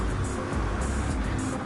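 Race cars in a NASCAR GT video game hold a steady, broad engine roar that continues throughout, with faint higher whines drifting over a loud low rumble.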